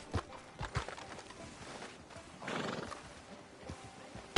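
A horse in the video game Red Dead Redemption 2 neighs in a drawn-out whinny midway, surrounded by scattered hoof clip-clops, faint and somewhat distant.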